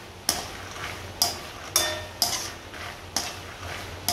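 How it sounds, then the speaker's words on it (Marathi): Peanuts frying in a pan for poha chivda, with a regular series of sharp metallic scrapes and knocks from a spoon stirring against the pan, about once every half second to second, over a faint low sizzle, no talking. "आता शेंगदाणे पण मी थोडे लालसर होईपर्यंत तळून घेते"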